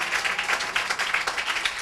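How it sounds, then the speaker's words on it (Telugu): A church congregation claps steadily and rhythmically in praise during a sermon, filling the room with dense, even applause. "అట్లాంటి దేవునికి చప్పట్లు కొట్టి స్తుతిద్దామంటారా?"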